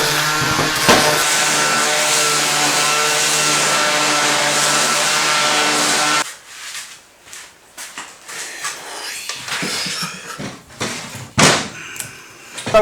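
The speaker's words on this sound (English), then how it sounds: "I have a 40 grit sander here, so it's just really going to tear up the wood and just take off all the splintery bits" A coarse 40-grit sander grinds over oak beams in a loud, steady whine for about six seconds, then cuts out, leaving scattered knocks and handling noises.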